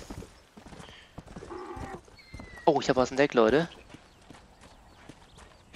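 Donkey hooves in Red Dead Redemption, a quick run of clip-clopping steps heard briefly over game ambience, with someone talking in German before and after.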